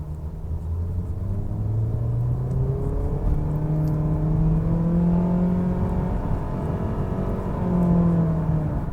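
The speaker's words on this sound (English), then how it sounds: "this is one loud engine when you're putting it at its maximum performance" Honda HR-V RS crossover in sport mode accelerating hard from a stoplight, a loud steady engine drone rising in pitch through the gears, heard from inside the cabin with no talking.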